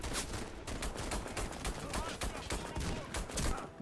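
Gunfire in the first-person shooter Warface crackles in rapid, repeated bursts at low level, a steady rattle of shots filling the short stretch without clear speech.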